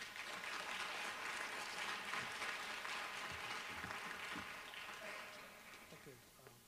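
An audience applauds as a speaker is welcomed to the podium at an opening session of a Detroit education event. The clapping is steady and fairly distant, holding for several seconds before slowly tapering off.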